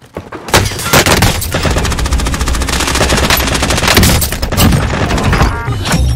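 XM4 rifle fire in a video game, loud rapid automatic bursts with sharp reports and booms running almost continuously up close.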